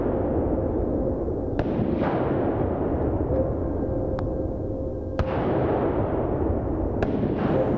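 Sharp, separate shots from a Winchester SXR2 pump-action rifle ring out during an outdoor wild boar hunt, several spaced seconds apart over steady background noise, with no one speaking.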